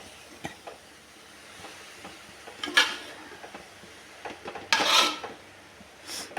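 Taro leaves steaming in a pot are stirred with a utensil, heard as faint scrapes and a few louder metallic clinks and rasps against the pot, separated by quiet pauses.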